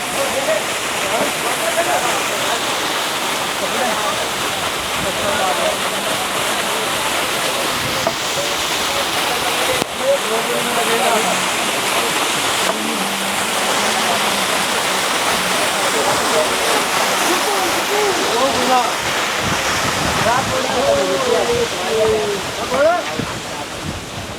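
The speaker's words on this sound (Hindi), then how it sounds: "एक किलोमीटर और चलने के बाद हमें मिला एक प्यारा सा झरना।" A continuous roar of rushing, falling water from a waterfall on the trek to Kedarnath fills the scene, loud and steady, with voices faintly audible underneath.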